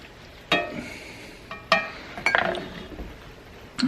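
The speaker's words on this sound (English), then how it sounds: "Let's mix this up. That'll reduce, get a nice syrup going." Balsamic glaze stirred as it reduces in a pan, with a few sharp clinks of a utensil against the cookware over a low background hiss, spaced irregularly and close by.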